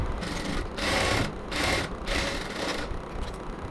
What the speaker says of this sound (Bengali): এরপর এখানে আমি আবার ডাবল সেলাই দিয়ে নিচ্ছি।